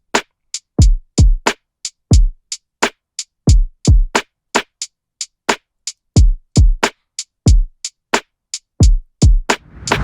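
A lofi drum pattern plays crisp, dry hits with deep booming kicks and sharp snappy percussion in a steady loop, the first kick dropped on the third bar, loud and alone.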